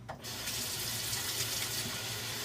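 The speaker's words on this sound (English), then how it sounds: "Let me wash my hands." A kitchen tap runs steadily as hands are washed during stuffed chicken preparation, a continuous close splash of water at even loudness from start to finish with no talking.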